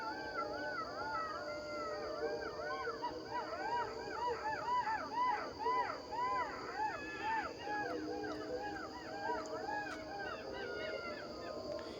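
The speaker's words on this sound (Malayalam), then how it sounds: "ഇതാണ് കുറുനരിയുടെ സൗണ്ട്." Jackals howling at night in Periyar, a chorus of overlapping wavering, rising-and-falling yelps and howls that continues throughout, moderately distant, over a steady background hum.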